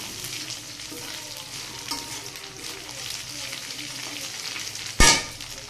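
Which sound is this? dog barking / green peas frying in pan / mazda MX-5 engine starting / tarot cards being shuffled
green peas frying in pan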